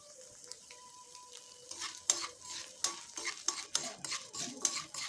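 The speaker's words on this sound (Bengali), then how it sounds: "ডালটা আর শুকনো লঙ্কাটা ভাজা হয়ে এসেছে" Lentils and dried red chillies frying in hot oil, a soft sizzle punctuated by repeated stirring scrapes and clicks that grow busier after the first couple of seconds, close by with no talk.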